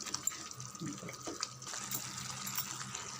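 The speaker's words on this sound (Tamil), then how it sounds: "ஒரு அரை டம்ளர் தண்ணி மட்டும் விடுங்க" Water is poured into egg gravy cooking in a pan, a faint, uneven trickle and splash with small clinks and bumps close by.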